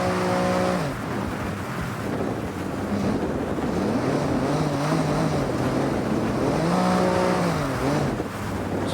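A BMW M1 engine in Forza Horizon, driven in the rain, gives a steady low drone under broad, constant rushing noise, with a few rising and falling pitch sweeps as the revs change.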